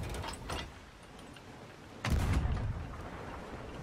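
Cannon fire in the Sea of Thieves video game: a couple of deep booming blasts, a softer one early and a louder heavy thump near the middle with a rumbling tail, no talk.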